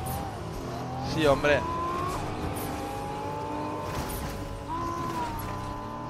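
A Lamborghini drives in a Fortnite tournament match, its engine droning steadily with a short tire squeal early on, while someone speaks briefly over the game audio.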